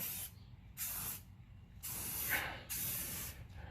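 A spray can lays down primer paint in four separate hissing bursts, each about half a second to a second long, close and fairly quiet, with short pauses between them.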